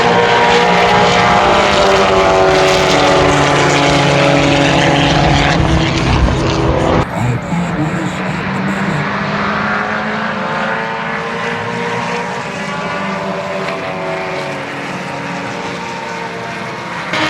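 A vintage race car roars past on a racetrack at Canadian Tire Motorsport Park, loud engine drone sweeping by close and then fading into the distance.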